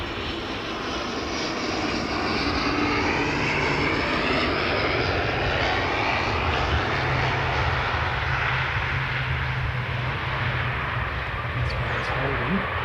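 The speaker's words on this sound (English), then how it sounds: "It's an ATR landing." An ATR turboprop airliner lands at Christchurch airport, its loud, steady engine and propeller roar filling the whole stretch without letup.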